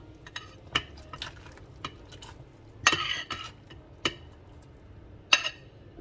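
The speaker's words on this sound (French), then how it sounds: "Maintenant, je vais mettre les pâtes dedans." Dry pasta going into a pot of water with browned meat, heard as a few sharp clattering rattles and splashy clinks against quiet kitchen background, with no voices.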